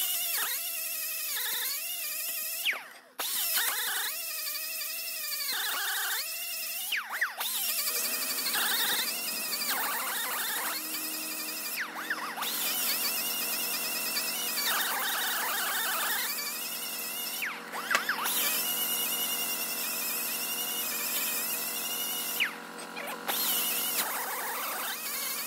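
Drum brake parts from a 1962 Thunderbird being scuffed to remove glazing, a steady abrasive grinding and whirring with brief pauses and shifting pitch, close and fairly loud throughout.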